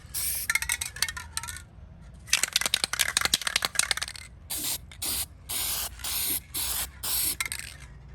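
Rust-Oleum Hammered spray paint hissing from an aerosol can onto truck trim, in a long steady spray, then a longer pass, followed by a rhythmic series of short, evenly spaced bursts, close and fairly loud.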